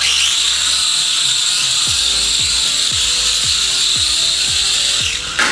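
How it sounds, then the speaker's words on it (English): Loud, steady high-pitched whine of a large drone's propellers buzzing close by in flight, with a rhythmic series of low thumps ticking underneath. "So the drone was making quite a lot of noise"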